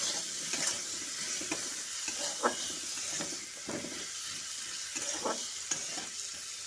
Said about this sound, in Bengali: ভালো করে লাল লাল করে আলুগুলো ভেজে নেব